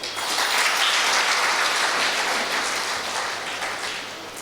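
An audience claps at a Tamil-language talk, a steady, dense burst of applause that holds loud for a few seconds and then tapers slightly toward the end.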